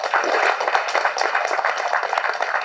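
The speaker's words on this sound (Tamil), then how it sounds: "கணேஷ் மாஸ்டருக்கு வந்து தயவு செஞ்சு ஒரு கைத்தட்டல் கொடுங்க" Audience applause for Ganesh master at a Tamil event, a dense patter of many hands clapping continuously for a few seconds, fairly close and steady.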